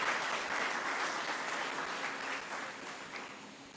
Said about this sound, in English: let's give our three awardees a round of applause